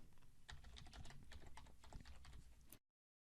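Rapid computer keyboard typing, close and dry, with a steady stream of clicking keystrokes that stops abruptly just before the end.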